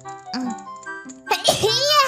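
A sneeze bursts out about midway through, sharp and close, amid ongoing talk and background game music.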